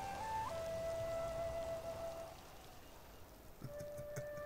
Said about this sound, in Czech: Nelíbí se mi ten déšť